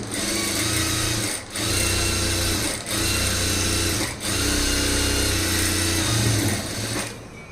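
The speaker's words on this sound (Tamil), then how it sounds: "லைனிங் கிளாத்தை ரைட் சைடு திருப்பிட்டு லைனிங் கிளாத் மேலே தையல் போட்டுருங்க" A sewing machine stitches lining cloth for Aari work, running in a steady continuous whir with three brief pauses, close and loud with no voices.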